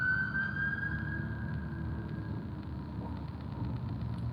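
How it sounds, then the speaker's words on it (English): A fire truck siren wails from some distance, a rising and falling tone over steady traffic rumble, faint throughout. "Let me let this firefighter go past."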